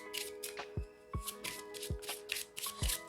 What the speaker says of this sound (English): I'm going to ask them to take the cards out and give them a shuffle.